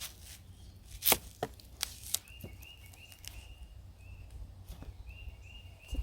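A knife chopping a quarter of a large onion on a board at a campsite, a few sharp irregular chops with quiet gaps and a light scraping in between, outdoors with faint bird chirps in the background.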